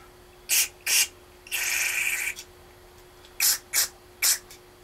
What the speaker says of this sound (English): go ahead and take our carb cleaner, go ahead and spray out the housing for our main and idle jets